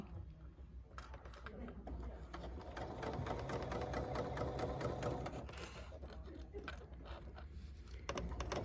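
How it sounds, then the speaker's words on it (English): A dual feed sewing machine stitching a 1930s-style Double Nine Patch quilt block runs steadily at close range, its rapid mechanical needle chatter continuous throughout with a low motor hum underneath. "you can really see how this wonderful machine works"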